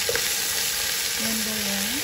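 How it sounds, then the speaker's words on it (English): Chicken fat fries in a pan with a loud, steady, close crackling sizzle and a faint tonal hum in the background. "I'm flipping now my chicken fat, guys, as you can see, the color changes."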